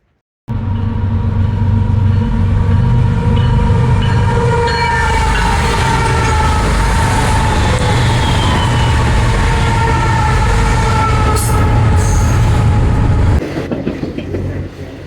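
A train rumbles loudly past at close range through a station, steady and heavy for several seconds, with a brief horn-like tone before it cuts off.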